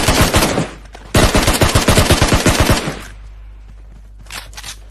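Rapid automatic gunfire from PUBG Mobile on the Miramar map: two loud, dense bursts of fast shots with a short gap between them, then quieter scattered shots toward the end.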